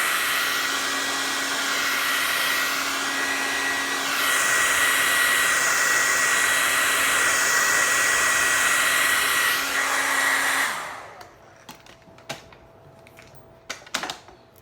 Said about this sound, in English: After I blow dry.